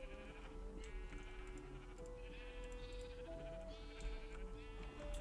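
Blocky sheep in the Minecraft video game bleat repeatedly over steady background game music, their calls rising and falling at a moderate, close level.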